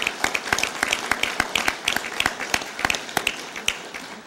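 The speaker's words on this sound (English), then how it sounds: "I think that deserves some applause." Scattered applause from a modest audience at a Rotary club meeting, with individual claps distinct and uneven in rhythm, fairly close, lasting a few seconds.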